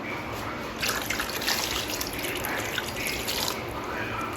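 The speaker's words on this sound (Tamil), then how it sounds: "தேவையான தண்ணி ஊற்றிக்கலாம்." Water pours into a pressure cooker holding half a kilo of chicken and ground masala for chicken gravy, a steady splashing trickle with no one talking.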